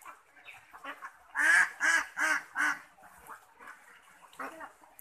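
Khaki Campbell ducks on a farm quack in a quick burst of four loud, close calls, with softer quacks and murmuring before and after.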